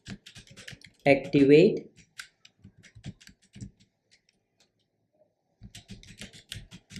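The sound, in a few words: typing an email on a computer keyboard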